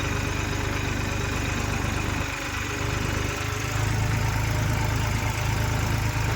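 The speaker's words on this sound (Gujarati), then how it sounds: "ગારો હોય એટલે ટ્રેક્ટર રાયડું તો નાખવાનું જ છે. ટ્રેક્ટરને લોડ તો પડવાનો જ છે." A tractor engine runs steadily while sowing a monsoon groundnut crop in a field, producing a continuous mid-range rumble that dips briefly and then carries on under load.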